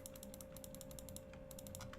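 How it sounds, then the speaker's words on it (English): Rapid, light computer mouse clicks come during a Diablo Hell Mod play session, quiet and close, in irregular bursts over a steady low hum. "heard the mouse clicking."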